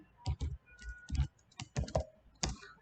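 Quick, close bursts of keystrokes on a computer keyboard while code is typed, uneven clusters of clicks with short pauses between them, with no talk.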